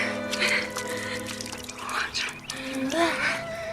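Water runs and splashes from a hand pump in a steady, wet stream, with speech and other voices faintly mixed over it.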